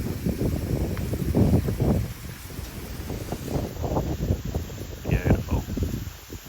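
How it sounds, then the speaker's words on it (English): Gusty wind blows across a harvested field, a broad rumbling roar that swells and fades in pulses with buffeting on the microphone, while people talk underneath. "Terrible wind conditions for us"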